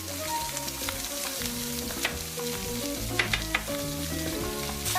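Spanish mackerel pan-frying in oil, a loud continuous close-up sizzle and crackle with a few sharper pops, no voices.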